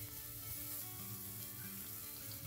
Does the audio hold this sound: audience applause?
no